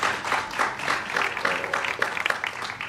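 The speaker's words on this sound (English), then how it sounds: "Let's please give a round of applause for them." A ceremony audience gives a round of applause to the American Red Cross, a full, lively spread of clapping that holds steady and thins slightly toward the end.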